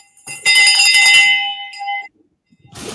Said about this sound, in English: Someone says I need a bell.